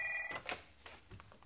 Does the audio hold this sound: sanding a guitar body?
no